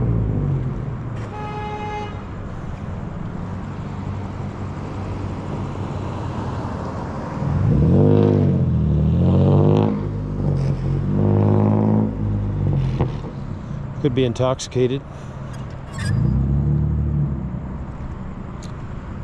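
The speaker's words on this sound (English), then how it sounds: "Why you would want to put a loud muffler system on a little dink ass truck like that is beyond my recollections." A small truck fitted with a loud aftermarket muffler system rumbles past on a Las Vegas street at night, its exhaust swelling in bursts over steady traffic noise, with a car horn toot and brief talk nearby.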